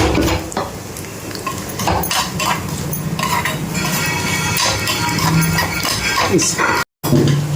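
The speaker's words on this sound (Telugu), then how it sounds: "చిన్న ముక్కలే తరిగి పక్కన పెట్టుకున్నాము అదే ఇప్పుడు ఫ్రై చేసుకుంటున్నాము" Chopped cashew nuts fry in a pan, a continuous sizzle with stirring scrapes and metallic clinks from a utensil against the pan, heard close with some speech over it.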